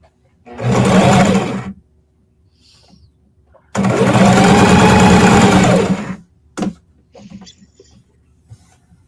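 A sewing machine stitching jelly roll strips runs loud and close in two bursts, one short and one longer, with quiet pauses and faint handling clicks between them.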